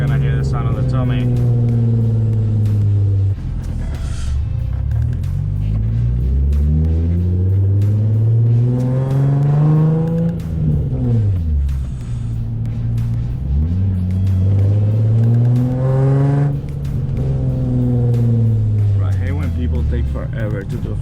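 Nissan 350Z engine on a night drive, a loud close drone rising and falling through gear changes, with the pitch sweeping up under acceleration and dropping between shifts.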